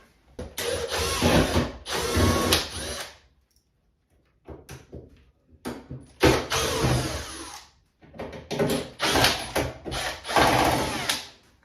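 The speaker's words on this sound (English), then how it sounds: "Now you can see where I'm going to go ahead and unscrew the rest of this from." A power drill unscrews the fasteners on a washing machine's door boot gasket in several separate whirring bursts, each a few seconds long, with short quiet gaps between them.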